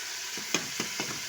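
Minced keema fries with tomatoes and spices in a hot pan, a close, continuous sizzle broken by four or five quick scraping stirs, with no voices.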